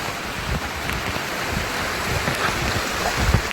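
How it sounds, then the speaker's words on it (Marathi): Heavy rain falls outdoors near Murbad in a dense, steady hiss that fills the whole stretch at an even level, with no one speaking. "पाऊस पडतोय खूप पाऊस."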